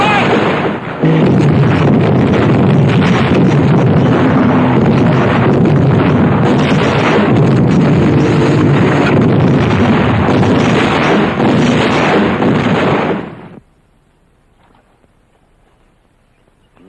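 A battery of artillery fires in a 1969 El Alamein war film, a dense, loud, continuous roar of cannon blasts and explosions lasting about twelve seconds before cutting off abruptly into near silence.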